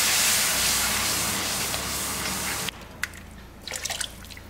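Loud sizzling hiss as water is poured into a hot pan of spices for a banana-flower curry, dropping abruptly to softer bubbling and spitting crackles.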